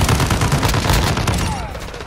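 Dense bursts of video game gunfire fill the scene, loud and continuous with rapid overlapping shots that thin out slightly toward the end.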